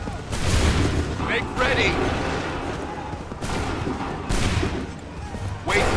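Musket volley fire in the Assassin's Creed III video game, several loud broadband bursts spread through the clip, mixed with shouted commands and battlefield noise.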